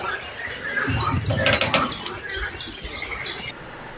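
Nightingales sing along the Zbruch river at Martynkivtsi, with loud, close chirping and trilled phrases over a dense wash of evening chorus that may include frogs, continuous throughout.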